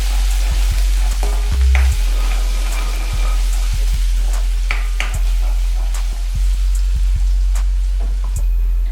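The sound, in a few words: chopped ginger, garlic and cinnamon frying in heated oil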